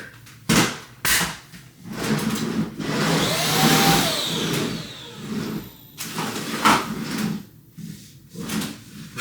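A handheld extendable vacuum cleaner runs during household spring cleaning, its broadband whir rising and falling as it is pushed around, with bumps and clunks of handling in between.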